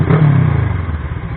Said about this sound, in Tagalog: medyo maingay ang ating motor at ako ay nasa kalsada